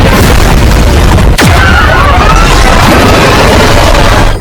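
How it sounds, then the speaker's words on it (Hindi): A missile launch explosion from a movie rumbles as one loud, dense blast with a sharp whooshing streak partway through, filling the whole moment at full volume. "Missile launch."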